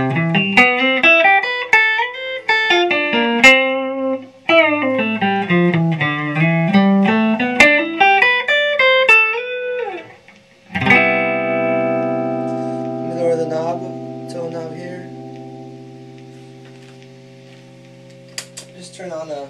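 Agile 3100 electric guitar on its single coil pickup, a clean melodic run of picked notes climbing and falling, then a sustained ringing chord that slowly fades, played alone and close.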